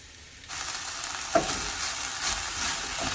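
Meat for homemade egg roll filling frying in a pan: after half a second of quiet, a steady close sizzle starts and keeps going, with a sharp clink of a utensil partway through and no talking.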